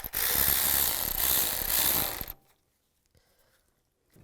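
A ratchet tightens the radiator hose clamps on a 2002-2009 Chevy Trailblazer. A rapid run of close, loud clicks lasts about two seconds, then stops abruptly into near silence.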